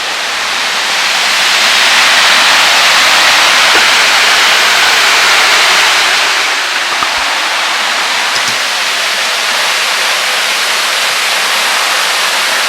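A waterfall at night roars as a dense, steady rush of falling water, loud and close throughout, with no voices.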